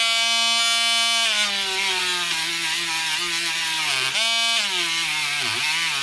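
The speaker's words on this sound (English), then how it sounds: "you can use one of the tiny wire brushes to actually get into like these worn out teeth here" A WL-800 micro grinder spins a tiny wire brush against worn, rusty saw teeth, giving a steady high whine whose pitch dips and shifts as the brush bears on the metal.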